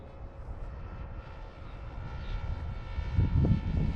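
A small Talon 250g RC plane with a T-tail flies overhead, its faint buzzing motor drone steady and distant, growing slightly louder toward the end.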